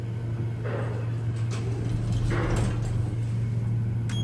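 A Fujitec traction elevator in a downtown Houston parking garage hums steadily with a low mechanical drone, with a couple of sliding swooshes and clunks from the doors and machinery moving nearby.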